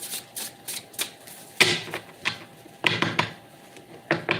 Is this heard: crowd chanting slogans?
no